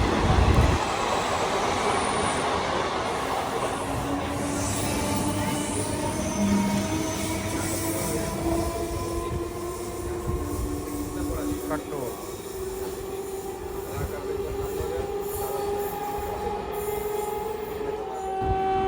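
An Intercity Express hauled by a red WAP4 electric locomotive rolls past at a station at Mankundu, with a continuous loud rumble of wheels on track, rising squeals and a hiss, and a voice talking over it.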